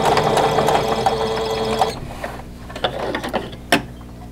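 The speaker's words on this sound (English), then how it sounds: "And just stitch that little section right there." A sewing machine runs briefly, stitching a short seam on a quilt block, whirring steadily up close before stopping, followed by small clicks and handling noises.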